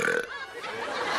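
A loud, raspy human burp comes up close for about a second, trailing off at the end.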